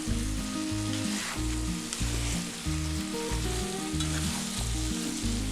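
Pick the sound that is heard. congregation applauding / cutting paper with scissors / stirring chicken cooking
stirring chicken cooking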